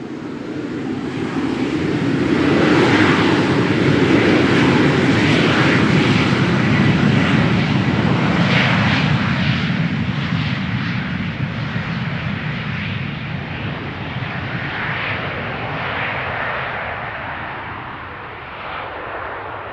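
An airliner in a chocolate-themed special livery departs Amsterdam Schiphol's runway 36L with a loud, sustained jet roar that swells and then slowly fades as it climbs away, with no voices over it.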